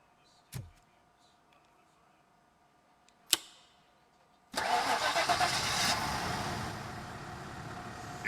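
A car engine in RoboCop: Rogue City, fixed after a disconnected coil, cranks and catches after two sharp clicks, then settles into a steady, fairly loud mid-pitched idle.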